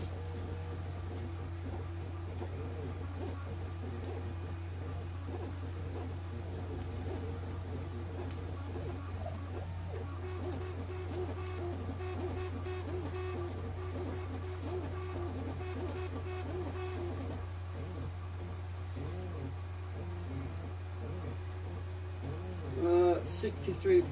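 A 3D printer runs continuously, giving a steady low hum with faint stepper whirring and clicks throughout, with no clear talk over it.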